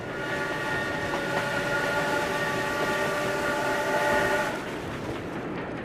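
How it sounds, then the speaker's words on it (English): Great Northern Railroad steam trains, a passenger train and a fast mail train, move slowly through on snow-cleared tracks near the Cascade Tunnel in winter, giving a steady rumbling roar with sustained whistle-like tones that fade near the end. "On the following day, the tracks are finally cleared, and both trains slowly steam through."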